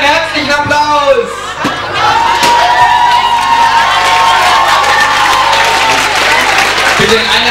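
Loud audience applause with cheering and whoops fills a school hall during an Abitur graduation ceremony at a German Gymnasium, steady and sustained throughout, with a voice speaking over the start.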